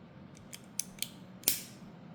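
A plastic Beyblade ratchet part clicks into place during assembly of a Hasbro Helm Knight 3-80N top, with several small, close, crisp clicks, the last one the loudest.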